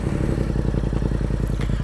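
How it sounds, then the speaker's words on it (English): A motorcycle engine runs very loud with its dB killer removed, a steady, rapid, thumping idle close to the microphone with no voices over it. "I'm going to fire this thing up. The microphone doesn't do this thing justice. This thing is really loud."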